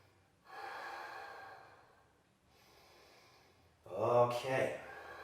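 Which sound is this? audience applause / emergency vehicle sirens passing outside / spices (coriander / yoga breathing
yoga breathing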